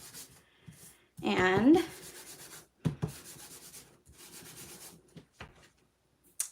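A fabric embossing buddy pouch is rubbed briskly over paper in a short scratchy burst, followed by a few lighter rubs and taps, with a voice briefly heard.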